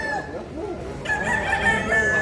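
A rooster at a Cebu poultry sale gives one loud, close crow that rises and holds for about a second, following some softer clucking and murmur.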